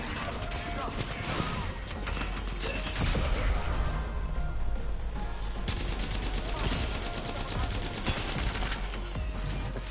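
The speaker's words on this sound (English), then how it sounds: "Oh, we're also getting shot from behind now, too." Gunfire coming from behind in the shooter game Apex Legends, dense rapid bursts of shots and mechanical clatter running continuously, loud and busy, with some speech mixed in.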